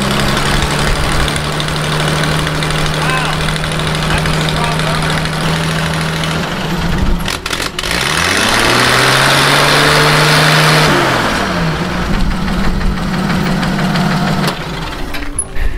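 A Ford flathead engine on a 1971 Speed Star water well drilling rig runs after starting, with a steady rumbling idle, a brief throttle rise and fall partway through, and excited voices talking over it.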